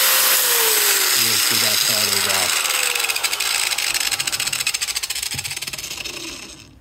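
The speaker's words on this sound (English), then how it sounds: "Be very careful about this grinder." An angle grinder cuts off a part during a DIY plastic-welding soldering head build, its steady high-pitched whine running loud and close for several seconds under brief speech at the start.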